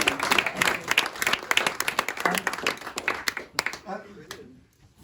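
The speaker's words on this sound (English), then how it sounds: "You deserve a round of applause for braving the elements" Audience at a village history group's Christmas event claps warmly and continuously, a dense patter of hands with voices mixed in, before the applause thins out and fades near the end.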